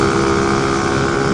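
A Lambretta scooter fitted with a 333cc air-cooled Chasm Performance Sledgehammer engine runs with a loud, steady, buzzing drone that holds at an even pitch throughout.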